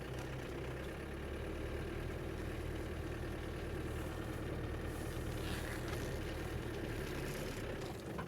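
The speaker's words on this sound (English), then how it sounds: "I'm not giving it any gas, and you could feel that it wants to climb up anything." A 1997 Land Rover Defender 90 engine rumbles steadily in low gear with no throttle while the vehicle crawls up a small mound, a constant low drone at even loudness throughout.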